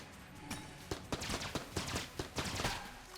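Void Core Assault Rifle firing in the video game Enter the Gungeon, a quick irregular burst of roughly a dozen sharp synthetic gunshots over a steady game background, fairly close and loud.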